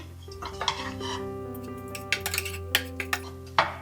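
Sautéed vegetables being mixed for a chicken shawarma filling in a pan, a spoon clinking and scraping against metal in irregular taps over a steady low hum.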